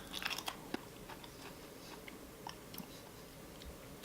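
Crunchy bites into a Kettle Corn Oreo cookie, a salty shortbread-like snack, with a few sharp cracks early on, then quieter close-up chewing and faint crunches spread across a few seconds.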